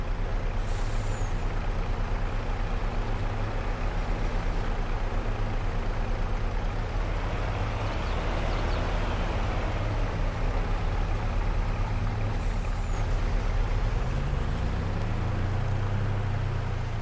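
Trucks and farm machines drive in Farming Simulator 22, with a steady loud engine drone throughout, a hissing air brake release near the start and again near the end, and a rising engine tone toward the close.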